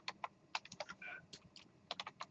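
Code being typed on a computer keyboard, a quick run of crisp key clicks in uneven bursts with a brief pause midway, close and fairly quiet, no talking.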